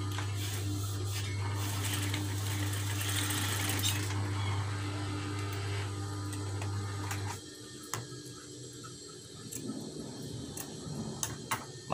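Sewing machine stitching a black cloth face mask: a steady loud mechanical whir with fast ticking that runs for several seconds and then stops, followed by quieter handling clicks.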